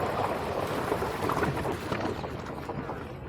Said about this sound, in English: I am still submerging the scooter completely into this.